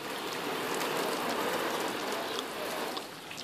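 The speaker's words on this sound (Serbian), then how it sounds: "Kiša pada." Steady rain falls and patters on a surface nearby, a soft continuous hiss of drops that eases slightly near the end, with no voices.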